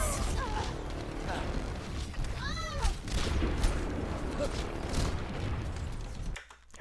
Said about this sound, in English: Big nade, though.